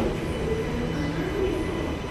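An MRT train moving through a station in Malaysia gives a steady, close rumble of wheels on rail with a faint squeal, continuous and even throughout with no talking.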